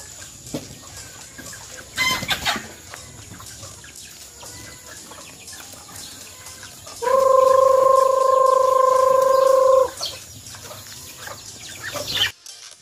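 Chickens at a rural backyard coop give scattered clucks, and a rooster crows loudly and steadily for about three seconds, close by with no talking.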